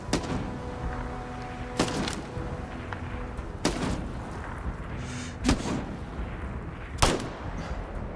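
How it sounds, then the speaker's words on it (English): Gunfire in the Starfield space video game, four sharp loud shots spaced about two seconds apart over a steady low ambient hum, with no talking. "Somebody's still shooting."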